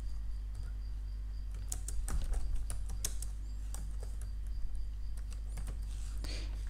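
Light, scattered keystrokes tap on a computer keyboard during Microsoft Word typing, faint and irregular over a low steady hum.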